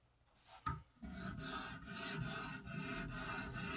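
A Japanese bench knife drawn across a whetstone, giving a brief knock and then steady repeated gritty rubbing strokes, close and fairly quiet, with no talk.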